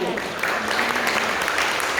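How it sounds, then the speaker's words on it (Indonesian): A church congregation claps during a sermon, a continuous wash of applause throughout, with voices mixed in. "Tepuk tangan."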